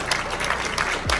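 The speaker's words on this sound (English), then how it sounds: "Give them a round of applause." Brief burst of clapping from a convention audience for panelists, dense and steady across the whole short stretch, heard in a large echoing hall.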